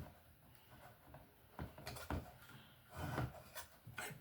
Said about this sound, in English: Get our orange wire nut on here.